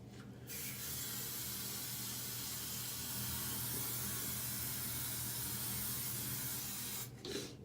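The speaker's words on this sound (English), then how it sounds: "Now I'll just set it with hairspray." A can of hairspray sprays in one long, steady hiss lasting about seven seconds to set hair, close and alone, with a short rustle as it stops.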